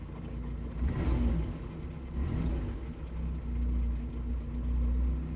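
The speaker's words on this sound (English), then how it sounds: "It sounds a really healthy little engine." A 1950s Standard 10 Companion, a small British classic car, has its little engine blipped and revved; two or three rising surges swell above a steady low idle rumble, close and fairly quiet, with no talking.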